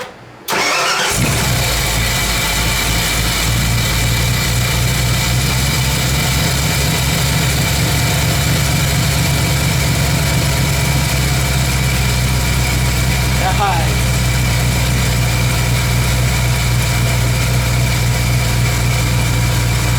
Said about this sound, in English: Let's fire it up and see if we got any leaks.